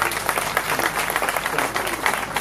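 Dense, steady applause from a crowd of guests at a customary wedding in Brazzaville, a continuous wash of many hands clapping at close to moderate distance.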